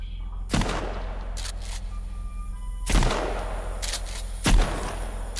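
Shotgun blasts in Sons of the Forest: three loud, sharp booming shots spaced a couple of seconds apart, each followed by a short ringing decay over a low steady hum.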